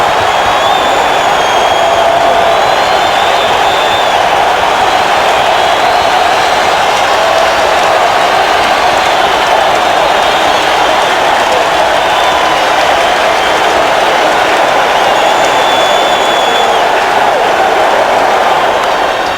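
A packed baseball stadium crowd roars and cheers continuously during World Series Game 7 between the Mets and Red Sox, a loud sustained wall of voices and whoops with scattered whistles above.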